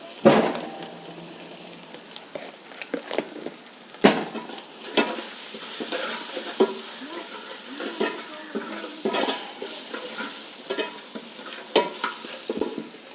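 Coriander powder fries in a pan with oil, giving a steady crackling sizzle broken by repeated scrapes and clinks of a spoon stirring the spices, close and busy throughout.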